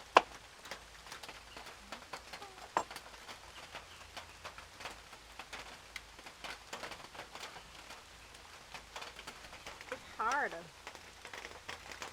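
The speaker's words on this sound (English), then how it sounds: "it's been raining here for the past," Steady rain falling outdoors during a backyard barbecue cook, a soft constant patter with scattered louder drips and taps on surfaces, with a brief voice heard near the end.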